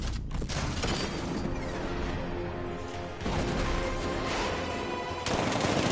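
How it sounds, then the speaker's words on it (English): A 60mm tank cannon fires in the video game Batman: Arkham Knight, a loud, continuous barrage of blasts and crashing impacts that rolls on without a break. ".60mm cannon operational."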